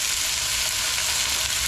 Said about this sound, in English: we're gonna put a little bit of bacon in there and we're gonna get that all crisped up